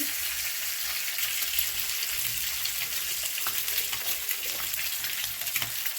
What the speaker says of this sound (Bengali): ডিমটা ভেজে নেব, আগে হলুদ দিয়ে দিয়েছি